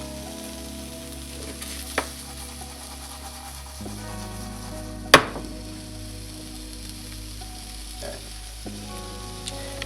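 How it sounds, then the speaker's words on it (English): Hot dogs fry in a pan with a soft, continuous sizzle, quiet and close, broken by a few light clicks and one sharp clatter of a utensil against the pan. "It's beginning to sizzle."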